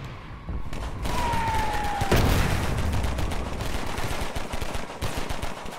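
Rapid automatic gunfire from the Roblox war game Shell Shock, a loud, dense stream of shots continuing without pause, with one sharp descending whistle cutting through early on.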